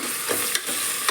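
Chicken biryani masala fries in a hot pan, a dense close sizzle with a couple of quick scrapes from stirring, brief and without voices.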